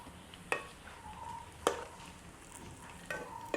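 Vada deep-frying in hot oil alongside milk payasam preparation: steady soft sizzle with sharp stirring or turning clatters roughly every second, close up and no voices.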